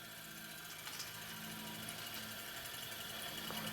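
Rotary grinding tool grinding the back off an O scale Kadee coupler draft gear box, a continuous high whine with a steady motor hum and slight variations as the bit bites.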